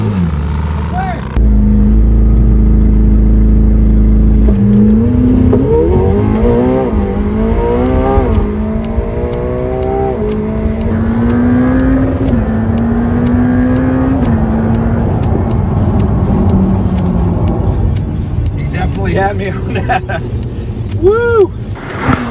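A McLaren 720S and Ferrari supercars, a 488 Pista and an F8 Tributo, launch in a drag race. A loud engine roar rises in pitch repeatedly through gear shifts and stays sustained and close, with voices mixed in.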